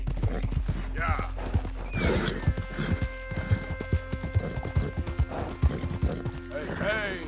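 A horse in Red Dead Redemption 2 clip-clops along at a steady gait, with sharp hoof beats and a whinny or two, while someone talks over the riding.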